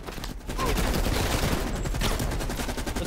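Rapid automatic gunfire from the video game Black Ops Cold War, a dense, continuous burst of loud shots that fills almost the whole clip after a brief quieter opening.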